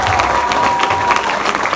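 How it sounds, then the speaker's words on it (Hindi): Audience at a youth venture event giving a team loud, dense applause, a close continuous wash of many clapping hands with crowd murmur underneath. "उस टीम के लिए भी जोरदार तालियां हो जाएं"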